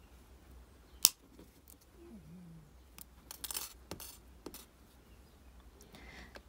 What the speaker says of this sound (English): So now I'm going to cut these wires quite short and bend them over